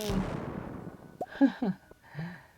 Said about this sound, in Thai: นี่แหละของดีวางปุ๊บระเบิดตึมนี่จบ